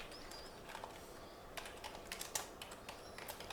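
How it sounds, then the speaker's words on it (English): Fingers tap on a computer keyboard in a quiet room, a soft, irregular patter of keystrokes that grows slightly busier toward the end. "I'm going to type it"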